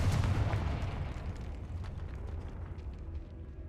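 Confringo spell explosions in Hogwarts Legacy roll out as a heavy, rumbling blast that booms loudest at the start and then decays into a long low rumble with faint crackles.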